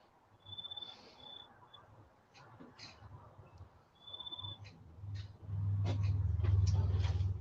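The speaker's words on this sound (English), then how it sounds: "I like the sound of those crickets in the background." Crickets or similar night insects chirp in the background in short, repeated high-pitched trills, faint and distant, with low rumbling noise building toward the end.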